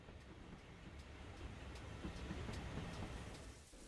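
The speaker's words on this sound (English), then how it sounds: "no sooner had Rook run round the coach had the main express arrived from Cardiff on its way to Alfriston" Express train arriving at a station, a steady broad rumble of wheels and carriages that swells slightly and then eases, with faint regular clicks over it and no talk.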